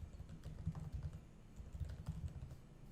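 Rapid, uneven typing on a computer keyboard while working through a MySQL session, a dense run of close, soft key clicks and taps continuing throughout with no voices.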